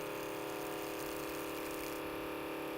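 A Biowash machine has fluid run through it, giving a steady mechanical whirr with a faint watery, ratcheting texture that holds even and continuous, with no voices.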